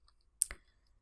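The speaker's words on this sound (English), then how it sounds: "pressing Shift and my right arrow on my keyboard" A single computer keyboard key is pressed, one quick, sharp click in an otherwise quiet room.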